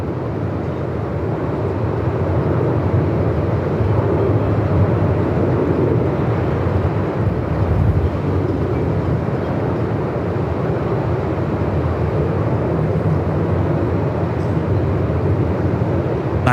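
Boeing 737 Max 8 airliner landing at Melbourne Airport in gusty 45-knot wind, a continuous heavy roar of engines and wind buffeting that stays loud and even throughout.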